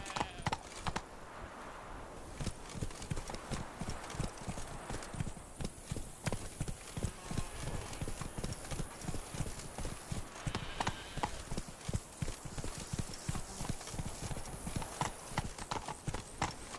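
Roach, Geralt's horse in The Witcher 3, gallops at a steady, rapid clip-clop of hooves that runs throughout, fairly close and clear, with light ambient game sound behind.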